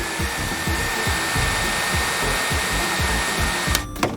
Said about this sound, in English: Get the blow dryer.